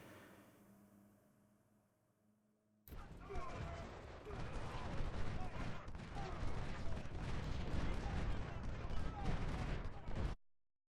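Artillery and musket fire from a 2nd Bull Run battle in Ultimate General: Civil War, breaking in suddenly after a quiet lull as a loud, continuous roar of overlapping shots that cuts off sharply.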